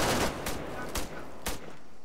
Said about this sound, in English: That was a launcher.